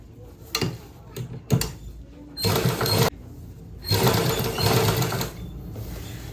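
A sewing machine stitches a sleeve onto a blouse, giving short clicking bursts followed by two longer whirring runs of stitching, close and fairly loud, with no talking.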